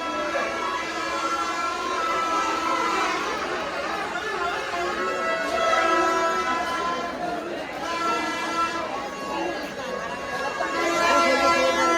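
Crowd hubbub fills a busy village fair, with steady overlapping chatter of many voices and a tonal, siren-like sound running beneath it at moderate level.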